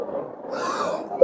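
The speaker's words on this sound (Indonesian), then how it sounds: "gua sampai batuk-batuk nih" A man coughs into a microphone while preaching loudly at a Maulid Nabi religious gathering, a short hoarse burst of breathy coughing close up, ending with a sharp click.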